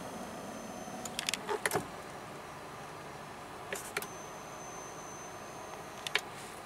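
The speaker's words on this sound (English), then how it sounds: "we do have a power tilt and telescoping steering wheel" The power tilt and telescoping steering wheel of a 2014 Toyota Tundra 1794 Edition whirs faintly inside the cab, a thin steady motor whine broken by a few sharp clicks and taps.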